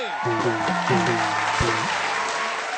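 Loud applause from a show audience for a band, with a short descending musical phrase playing over the continuous clapping.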